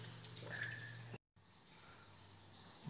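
Water runs steadily inside a disused 1.5-mile railway tunnel, a faint continuous hiss and trickle with a few brighter splashy notes, broken by a brief dropout midway.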